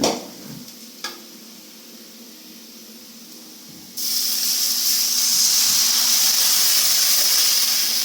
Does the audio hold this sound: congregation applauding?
no